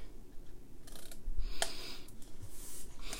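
Scissors cut paper tabs at an angle in a few quick snips close by, over a faint background hiss.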